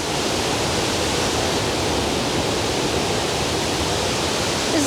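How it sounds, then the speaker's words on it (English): Plodda Falls in Scotland pours as a loud, close, unbroken roar of falling water, steady broadband rushing with no voices. "This is the best waterfall I've ever seen."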